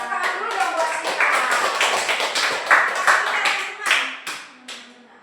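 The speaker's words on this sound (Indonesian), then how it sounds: "tepuk tangan dulu dong buat kita." A class group in an Indonesian Hindu religion lesson claps together, a loose burst of hand claps with sharp individual slaps standing out and tapering off, with voices speaking over and between the claps.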